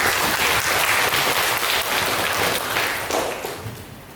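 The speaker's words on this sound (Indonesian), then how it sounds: "Tepuk tangan dong." An audience bursts into steady, dense applause at a school event. The clapping is close and loud throughout, easing off slightly near the end, with no talking over it.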